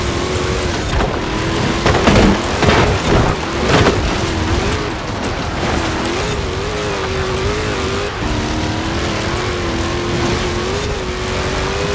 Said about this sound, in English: I'm not sure what else you can do to the Trackhawk really to make it a better vehicle.